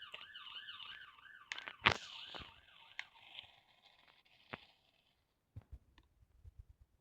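A police siren wails in a rising and falling warble, then fades out as it passes, followed by scattered thumps and knocks nearby.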